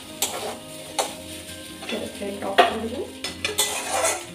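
Chow mein cooked with little oil being stirred in a pan, repeated scraping and clattering strokes of a utensil against the metal with faint sizzling, close and fairly loud, no talking.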